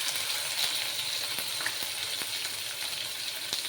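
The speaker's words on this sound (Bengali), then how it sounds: "তেলটা গরম হয়ে গেছে, এবার আমি মাছগুলো দিয়ে দেব।" Small fish frying in hot oil, a dense, continuous close sizzle with faint crackles and pops throughout.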